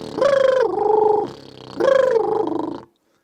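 Didgeridoo played to imitate a wild donkey's bray, two loud, close, pulsing hee-haw phrases with rising then falling tones, separated by a brief dip and ending abruptly.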